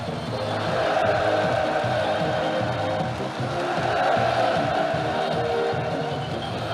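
A large crowd at a Workers' Party of Korea congress raises a sustained, roaring cheer that holds steady throughout, dense and loud with no single voice standing out.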